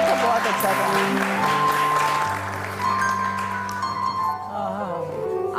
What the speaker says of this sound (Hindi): आइए जी, बहुत सारी तालियां जी।